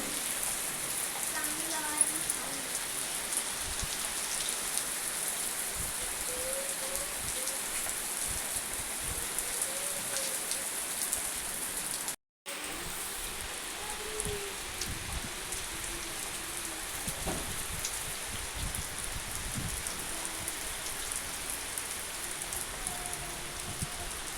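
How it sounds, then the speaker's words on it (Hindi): Heavy rain pours down steadily on a village home, a dense constant hiss with scattered drop impacts and faint background voices, broken by a brief gap midway. "लेकिन अचानक से बहुत तेज़ से बारिश हुई"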